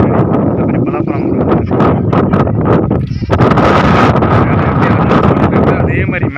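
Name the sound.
wind blowing on a mountain road during bike ride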